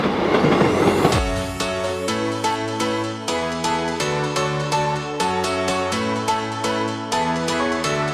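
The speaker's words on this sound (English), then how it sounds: "Oh, it's a train, is it?" A train passes close by, its wheels beating out a loud, regular clickety-clack over rail joints after a brief rushing onset, with a steady rolling hum underneath.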